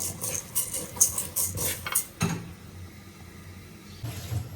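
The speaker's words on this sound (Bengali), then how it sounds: "এখন চাল ডাল ধুয়ে নেব" Rice and lentils being rinsed by hand in water in a home kitchen for khichuri, with splashy sloshing bursts close up for about two seconds, then a quieter stretch and a faint final swish.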